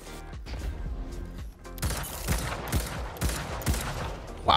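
Hand cannon gunfire from the Destiny 2 video game: a run of sharp, loud shots at an irregular rhythm over a busy game soundscape, with a heavier blast right at the end.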